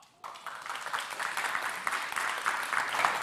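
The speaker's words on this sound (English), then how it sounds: "please join me in giving a huge round of applause and a big cheer as well" A conference audience bursts into applause that starts abruptly and swells into sustained, dense clapping, with faint cheering mixed in.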